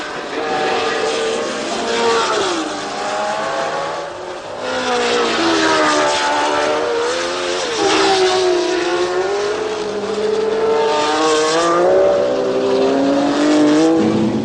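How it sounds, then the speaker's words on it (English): 1960s Formula One race cars lapping Spa-Francorchamps, including Jim Clark's Lotus with a 400 horsepower engine, their loud engines wailing and shifting pitch as they pass, sustained throughout with a commentator speaking over them. "but the pace is still hot at the front, with Rindt, Stewart and Eamon after Clark's Lotus."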